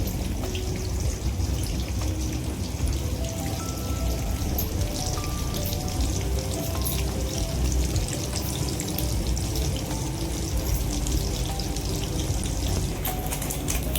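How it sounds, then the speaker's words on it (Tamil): Fish sizzles and crackles in hot oil in a Tamil fish fry, a dense, continuous spattering hiss that stays loud and close throughout. "இப்போ எண்ணெய் ஊற்றி சூடாயிடுச்சு. ஃபிஷ் வந்து பொரிக்கலாம்."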